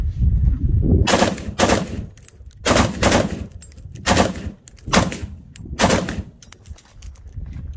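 Assault rifle fire at an indoor Las Vegas shooting range comes in about seven loud, close automatic bursts separated by brief pauses.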